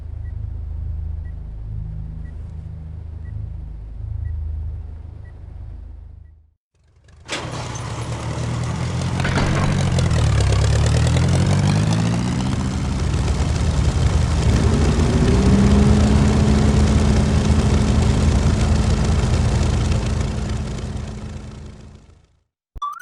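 Engines of MiG and Yak warplanes in Command & Conquer Red Alert, a low rumble that gives way after a brief silence to a loud, sustained roar with a sweeping pitch as aircraft pass overhead.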